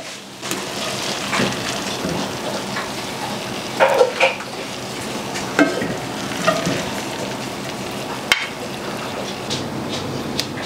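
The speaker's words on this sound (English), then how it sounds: "I went ahead and I added my bacon and onion back into the skillet." Bacon, onion and potatoes sizzle steadily in a skillet with a loud, continuous frying hiss, interrupted a few times by short scraping stirs of a utensil against the pan. No one speaks.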